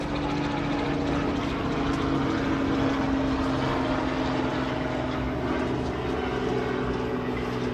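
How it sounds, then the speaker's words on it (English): A helicopter flies over a beach, its rotor and engine making a loud, steady drone that holds for the whole stretch. "Helicopter checking out the beach, guys."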